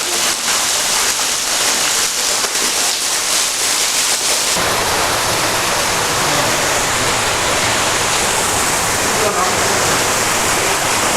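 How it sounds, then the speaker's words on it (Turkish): Water pours steadily from the ceiling at the far end of Çal Cave in Trabzon, a loud, continuous broadband rush like a small waterfall filling the whole clip, with no voices over it. "Birinci mağaranın sonunda tepeden su akıyor. Şelale sayılır."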